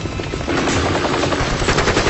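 Rapid gunfire crackles in dense bursts during a battle with helicopters, loud and continuous over a rumbling rotor drone.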